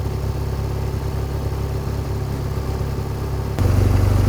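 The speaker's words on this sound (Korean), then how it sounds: "오토바이 소리가 우렁찹니다" A motorcycle engine runs steadily with a low rumbling idle beside the Seomjin River in Hwagae, Hadong, South Korea, growing louder near the end as it revs up close by.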